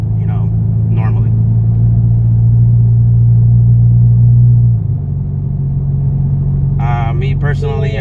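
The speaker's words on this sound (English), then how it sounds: "I have it right now just on normal mode, so you guys can hear the type of drone that's inside the car." An EcoBoost Mustang with an MBRP catted downpipe and full MBRP race catback exhaust drones as a low, steady hum inside the cabin during normal driving. The tone shifts slightly partway through, and someone talks briefly at the start and end.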